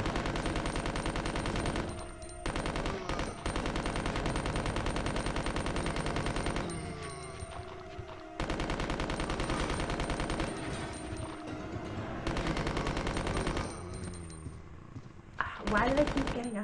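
Rapid automatic gunfire from Leon's unlimited-ammo gun in Resident Evil 2, long sustained bursts of shots broken by a few short pauses, loud and close, with a voice faintly beneath.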